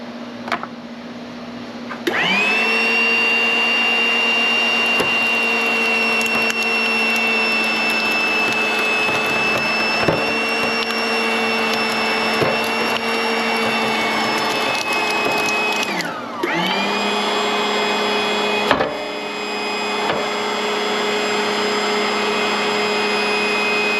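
An angle grinder cuts into a copper motor stator with a loud, sustained high whine that spins down briefly near the end before starting up again.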